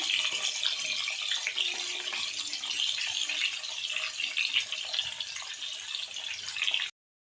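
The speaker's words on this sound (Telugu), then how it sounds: "ఈ వంకాయని పైకి ఇలా వేసుకున్నాం గైస్ ఆయిల్లో" Whole thorny eggplants sizzle in hot oil in a pan, a steady, close hiss lasting several seconds before cutting off abruptly, with no talking.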